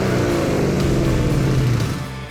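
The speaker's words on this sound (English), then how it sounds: "Ford has an active noise control system that magnifies the engine noise and pumps it through your speakers" Steady engine drone heard from inside a Ford Mustang convertible, a low, even hum that fills the cabin, fades slightly at the end and has no voices over it.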